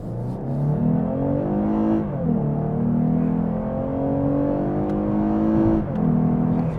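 A 2023 Lexus IS 350 compact sport sedan accelerating in Sport Plus mode, its engine note climbing steadily in pitch through the gears, dipping briefly at a shift before rising again, loud and continuous from start to finish with no talking.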